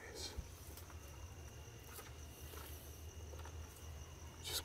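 Faint, steady insect chirping, like crickets, with scattered rustles and a few soft knocks in a quiet outdoor setting.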